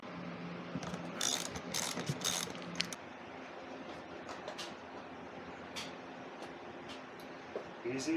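A ratchet turns a 12mm seat bolt on a Suzuki DR650, giving several close bursts of rapid clicking followed by quieter clicks and handling noise, with someone speaking over it.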